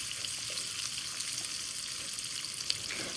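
Onion and thyme frying in vegetable oil over medium heat, a steady close hiss of sizzling with faint stirring scrapes throughout.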